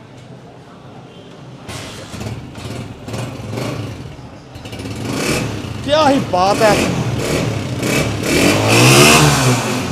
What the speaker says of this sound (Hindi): अच्छी नॉक में इंजन बोल रहा है